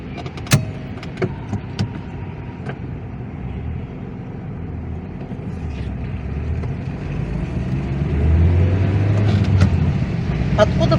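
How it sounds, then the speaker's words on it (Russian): Heavy rush-hour road traffic with many cars driving past, a continuous rumbling wash that builds louder toward the end, with a few sharp clicks and knocks nearby. "Откуда будет здесь свежий воздух, если очень много ездят машины, люди? Вон сколько машин."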